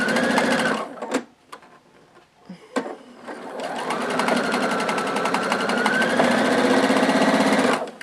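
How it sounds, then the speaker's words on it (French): A sewing machine stitches a quilt patchwork seam in close, loud, rapid runs, stopping and restarting briefly before one long continuous burst. "Je vais piquer à un quart d'inch du triangle du dessous puisque lui est droit."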